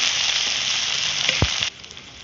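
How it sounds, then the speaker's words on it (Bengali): Onions and eggplant sizzle in a pan with a busy, even frying crackle and a few stirring knocks near the end, after which the sizzle drops to a quieter level. "পেঁয়াজও ভাজা হবে, বেগুনের ভাজা হবে।"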